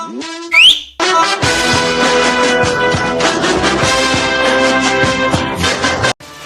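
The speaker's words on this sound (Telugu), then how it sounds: "నువ్వు పర్మిషన్ ఇస్తే ఒక విజిల్ వేసుకొచ్చా" A short, shrill whistle sweeps upward in pitch for under a second, then loud music takes over and plays to the end.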